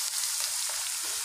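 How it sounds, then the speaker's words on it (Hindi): Chopped onions frying in a pan, stirred as they brown for a Punjabi-style shahi paneer korma: a steady, close hiss of sizzling oil fills the short stretch with no voices. "इसके अंदर मैं डालूंगी ये प्याज जो मैंने कट करा है। इसको प्रॉपर तरीके से हिलाएंगे और इसको अच्छे से ब्राउन करेंगे"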